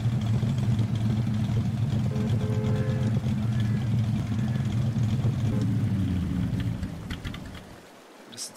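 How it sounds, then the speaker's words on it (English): Ford F150 Raptor engine in the Farming Simulator 22 video game, a steady low idling rumble that holds loud for several seconds before easing off near the end. "Very nice engine sounds as well."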